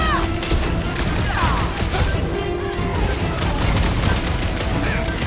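Rapid gunfire bursts and impacts in the video game Marvel's Guardians of the Galaxy, with loud, dense shots and crashes running continuously under a busy battle mix of music and effects.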